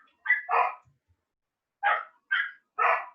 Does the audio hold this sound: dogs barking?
yes